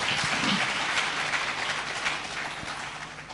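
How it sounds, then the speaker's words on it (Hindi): Audience applause at the Amar Ujala Samwad 2026 event in Uttarakhand, greeting Chief Minister Pushkar Singh Dhami: a steady, dense wash of clapping from a crowd that holds its level for several seconds, then eases slightly toward the end. "एक बार तालियां बजाइए आप लोग।"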